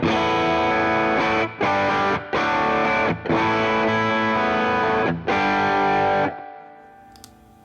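An electric guitar played through an AmpliTube Fender Blackface amp model with no overdrive rings out in clean, sustained chords, struck several times with short gaps, then fades into a decaying tail.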